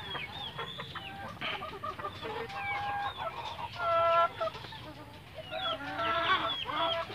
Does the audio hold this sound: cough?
no